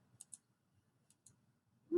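Sharp, faint mouse clicks on a computer in pairs, two quick clicks, then another pair a second later, near and dry in near-silence, followed by a brief low thump.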